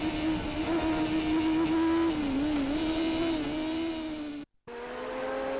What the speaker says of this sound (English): Donald Suzuki looks to have lots of bottom to mid-range grunt, enabling him to pull away from Pearson